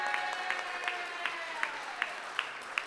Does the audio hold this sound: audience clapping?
yes